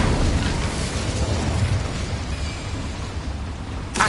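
A fire spell cast in Hogwarts Legacy gives a sustained, rumbling burst of roaring flame that stays loud and dense throughout, with a brighter flare near the end.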